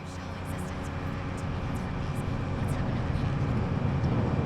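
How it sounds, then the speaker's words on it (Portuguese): Airplane passing overhead in GTA Vice City Stories on PS2, a broad steady engine roar that swells gradually louder across the clip, with no talk. "É um avião, né? Esse barulho, né?"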